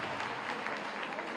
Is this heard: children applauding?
yes